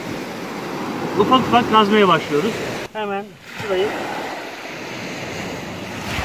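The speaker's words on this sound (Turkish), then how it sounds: "Bakın dalga geliyor." Sea waves wash onto a sandy beach in a steady, rushing wash with wind noise, heard under someone talking close to the microphone.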